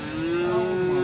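A calf moos in one sustained, loud call at a busy livestock market in Füzuli, heard close up with a steady murmur of the market behind it.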